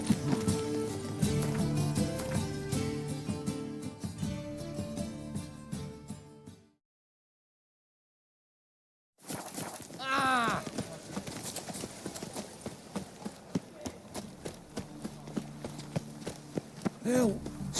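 Roach, Geralt's horse in The Witcher 3: Wild Hunt, gallops with steady, loud hoofbeats under game music, broken by a brief silence midway, then resumes with a whinny and voices talking over it.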